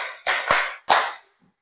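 A class claps together in unison as part of a counting exercise. A few sharp, distinct claps ring out close by with short gaps between them, then silence.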